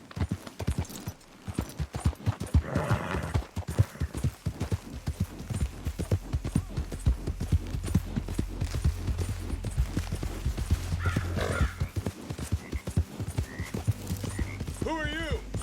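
Horse hooves clip-clop steadily on a trail in Red Dead Redemption 2 on PS4, a continuous trotting rhythm with occasional snorts, while game characters talk over it.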